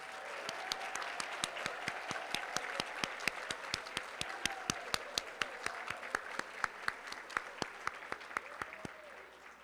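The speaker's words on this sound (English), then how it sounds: "Please join me in one more round of applause to congratulate all of our retiring" A banquet audience applauds retiring employees, a sustained round of many hands clapping with distinct individual claps standing out, steady throughout and moderately near.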